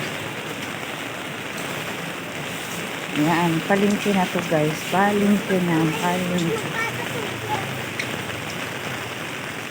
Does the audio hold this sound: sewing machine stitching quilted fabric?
no